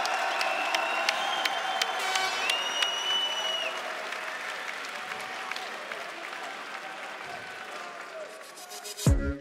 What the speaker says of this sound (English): Ladies and gentlemen, some more applause, please, for Freddy Kemayo.